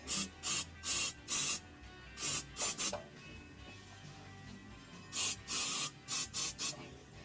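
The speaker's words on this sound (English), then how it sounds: "Using some silicone spray lube on each of these exhaust hangers." Short bursts of silicone spray lube hiss in clusters onto exhaust hangers of a 2017-2019 Fiat 124 Spider, quick repeated squirts separated by pauses, close and fairly soft.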